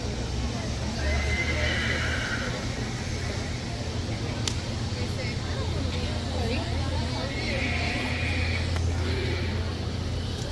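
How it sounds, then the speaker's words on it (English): Black Percheron draft horses whinny twice, two drawn-out neighs a few seconds apart, heard at moderate distance over a constant murmur of people and passing traffic. "We got some black percherons."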